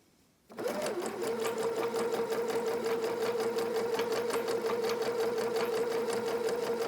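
A PFAFF Quilt Ambition 630 sewing machine stitching with a twin needle starts up after a brief quiet moment, then runs at a fast, steady, even hum with a rapid, regular needle rhythm, close and clear.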